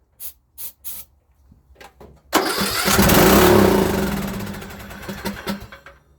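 A few soft clicks, then the small engine of a Craftsman LT2000 riding mower cranks and roars to life, running loudly with a seemingly stuck governor before settling into a rough, uneven idle.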